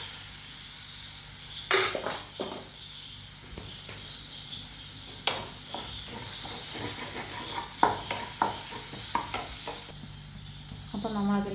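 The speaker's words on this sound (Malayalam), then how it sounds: "അതുവരെ നമുക്കൊന്ന് വഴറ്റി കൊടുക്കാം നന്നായിട്ട്." Ginger and garlic sautéing in a pan for mixed pickle, a steady sizzle running throughout with repeated close scraping stirs and clinks, loud and near, no voices.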